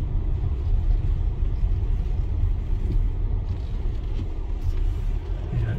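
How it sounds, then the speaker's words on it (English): A car rolls slowly toward a parking spot at Kihim beach, giving a steady low engine rumble and road noise at close range with no talk. "Now I'll park my car somewhere and I'll walk you around the beach."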